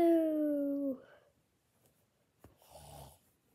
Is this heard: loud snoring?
yes